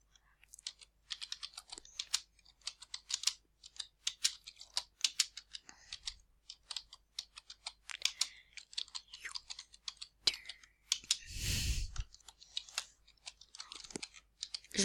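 Typing on a computer keyboard while entering a social-media status on MSN, with irregular bursts of close, crisp key clicks and short pauses, plus a brief rustle near the end, and no talking.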